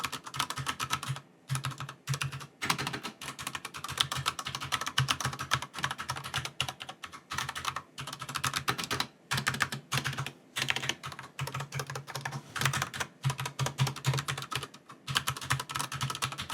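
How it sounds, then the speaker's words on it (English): Steady, fast typing up close on a Razer Huntsman Tournament Edition-style collection keyboard with Cherry MX Speed switches and PBT keycaps, a dense patter of crisp key clacks with a few brief pauses between bursts. "PBT keycaps on a Cherry MX Speed switch keyboard."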